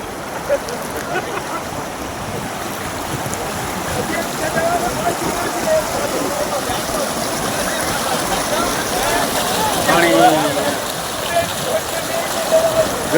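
A swollen river running high and fast, a continuous broadband rush of flowing water that stays steady and close throughout.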